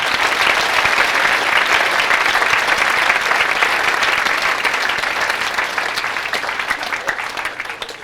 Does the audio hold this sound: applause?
yes